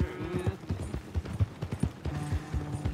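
Horse hooves clip-clop at a steady walking pace in Red Dead Redemption 2. The hoofbeats are close and distinct, with faint ambient game sound behind them.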